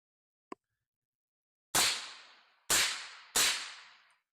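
Three suppressed 300 Blackout rifle shots from an 11.5-inch build with a guillotine suppressor, sharp loud cracks with short decaying tails, evenly spaced after a faint click.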